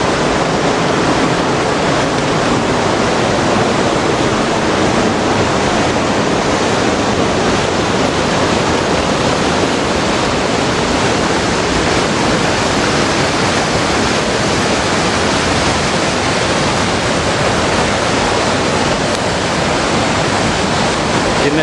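Waterfall on the upper Enoree River, a steady loud rushing roar of falling water that fills the whole clip with dense broadband noise and no other sounds above it.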